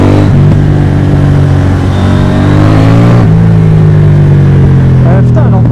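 A KTM Duke 790 motorcycle engine pulls hard under acceleration, its loud, steady drone climbing in pitch with a brief shift partway through, close and continuous.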